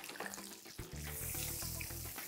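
Butter sizzles and crackles in a hot frying pan while cooking an English breakfast, growing louder and steadier after the first second, close by.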